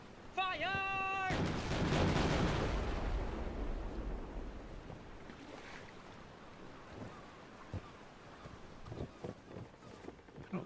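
Ship cannons in the naval video game Forgotten Seas boom out in one loud broadband blast that rolls into a long decaying rumble, with a tonal voice-like sound just before and surf-like wash and scattered thuds trailing after.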